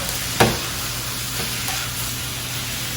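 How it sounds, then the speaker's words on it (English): Noodles stir-fry with soy sauce, garlic, ginger and scallions in a steady, close, loud sizzle, with one sharp clack of a utensil early on and fainter stirring scrapes after. No speech. "You'll notice these noodles are cooking down."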